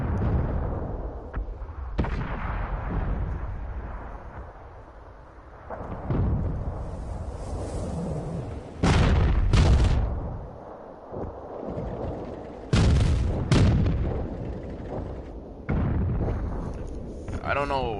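Tank cannon fire in World of Tanks: several heavy booming shots at irregular intervals, with sharp bursts and rumbling decays over steady engine and battle noise, while a player talks throughout.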